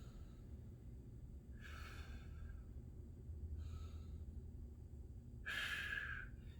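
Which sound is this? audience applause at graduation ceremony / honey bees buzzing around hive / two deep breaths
two deep breaths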